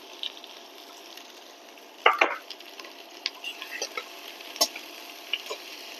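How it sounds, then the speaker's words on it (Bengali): Onion and garlic fry in a pan, a faint steady sizzle broken by sharp crackles and a few spoon clinks, close but quiet throughout. "এগুলো একটু আমি বাদামি করে ভেজে নিব।"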